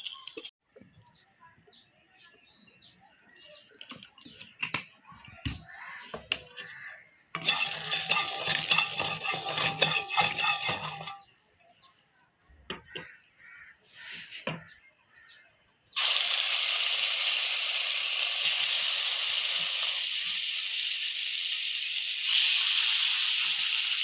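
Fish frying one by one in hot oil in a kadai: bursts of bright sizzling come and go, with quieter gaps of handling noise, then a steady, loud hiss of oil fills the final stretch.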